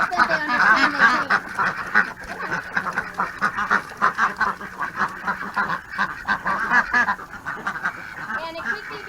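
Several ducks quack loudly and repeatedly in a paddock, a busy rhythmic chorus of close nasal calls with honking overlaps, keeping up for the whole stretch.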